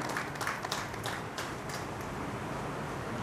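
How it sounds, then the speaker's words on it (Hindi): Audience at a Bhagwat katha religious gathering gives a soft, steady round of applause in welcome, a diffuse patter of many hands heard from a distance throughout. "एक बार जोरदार ताली से इनका स्वागत और अभिनंदन।"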